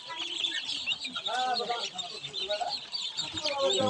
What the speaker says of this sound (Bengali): এই ক্যাম্বেল হাঁসের বাচ্চা